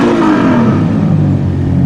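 Supercar convoy arriving with a Lamborghini Murcielago among them, a loud engine drone with a falling pitch sweep as a car passes close, steady revving under continuous road roar.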